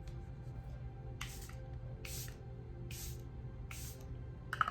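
Makeup setting spray mists onto a face in four short, evenly spaced hissing bursts, each lasting about a quarter of a second, quiet and close against a faint background hum.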